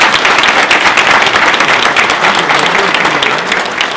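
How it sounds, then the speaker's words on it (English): A large audience gives loud, steady applause for a board of trustees at a formal event, a dense, continuous roar of many hands that eases slightly toward the end. "Please give them a round of applause."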